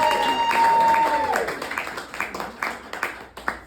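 Audience applause at a comedy show in a club, a sustained burst of clapping that thins out into scattered individual claps over a few seconds, with a voice talking over the start.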